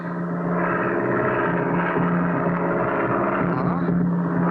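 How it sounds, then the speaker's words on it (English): A propeller plane engine in a cartoon drones steadily and loudly from start to finish, a constant buzzing hum with no breaks. "I hear it. It's a plane. That's Pack Rat's plane. I'd know the sound of his engine anywhere."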